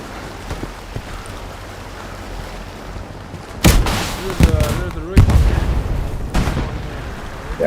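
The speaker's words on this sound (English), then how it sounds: "Oh, first time I get to use my rockets." Rocket launches and blasts in the World War II shooter Hell Let Loose, a few heavy booming bursts standing out from a low rumbling battlefield background, with a voice talking amid the action.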